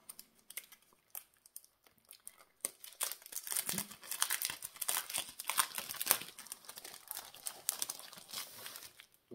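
Decorative paper handled up close, with continuous light crinkling and crackling rustles that grow busier in the middle, faint and irregular.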